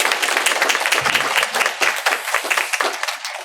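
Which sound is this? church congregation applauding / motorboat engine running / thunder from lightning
church congregation applauding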